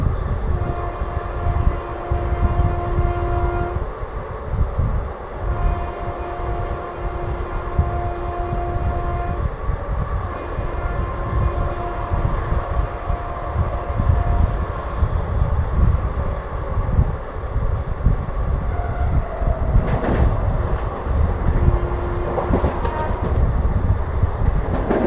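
Passenger train on a Bengaluru–Chennai Egmore Deepavali special running at full speed, with a continuous loud rumble and rattle of wheels and carriages and faint tonal hums drifting through.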